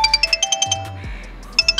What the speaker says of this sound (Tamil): இந்த ரிங்டோன் இந்த ரிங்டோன் நான் கேட்டே பல வருஷம் ஆகுது